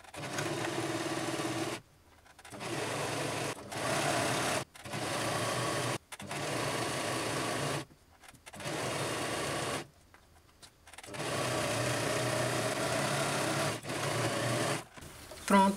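A sewing machine stitches a seam on a women's shirt in repeated bursts of rapid, steady whirring, each a second or two long, separated by short pauses, close and moderately loud.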